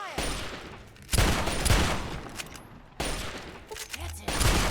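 Fallout 3 gunfire at Point Lookout erupts in two loud sustained fusillades, a clattering volley of overlapping shots close by, separated by a brief lull.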